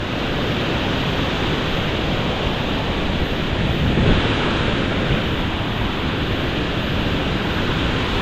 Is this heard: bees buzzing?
no